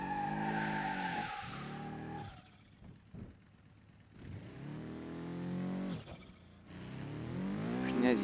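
A car skids and slides in the BeamNG driving game after a small jolt of the steering wheel, a loud continuous engine and tire roar with a squealing slide, dropping briefly in the middle and swelling again toward the end.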